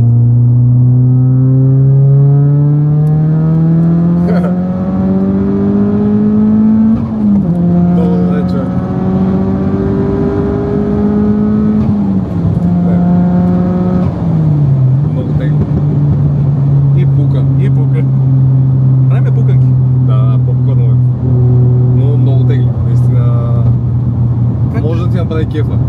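A loud, close engine of a tuned Audi A4 B6 1.8T with over 400 horsepower revs up steadily, drops in pitch at each gear change, then climbs again for a long sustained pull.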